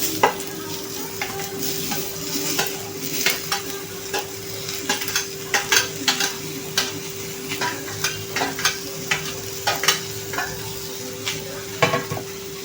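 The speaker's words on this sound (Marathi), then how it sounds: "हे पहा आपण कोरडा कांदा पहिले भाजून घेत आहोत।" Onions dry-roast in a pan without oil for a village-style chicken dish, a soft steady sizzle broken by repeated scraping and clinking as a utensil stirs them close by, with no talking.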